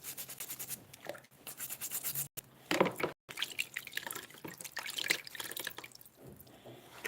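Hot water drips and runs while wax is rubbed off a decorated Easter egg, an irregular series of close drips and wet rubbing sounds with brief pauses and no talking.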